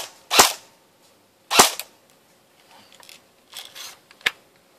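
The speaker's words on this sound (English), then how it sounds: "so that's what the gun sounds like on semi-auto." An Umarex H&K G36C Sportline airsoft electric gun fires single semi-auto shots, two loud sharp snaps followed by a few quieter clicks and one more crisp pop, close to the microphone with near silence between.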